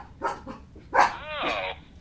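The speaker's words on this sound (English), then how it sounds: "We have a dog barking." A dog barks several times in quick, uneven bursts, a few short yips leading into one louder bark with a whining tail, fairly close and clear over a faint background hum.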